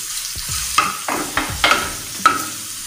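Onions fry in a pan as garlic paste goes in, giving a steady sizzle broken by several sharp stirring scrapes and clinks of a spoon against the pan.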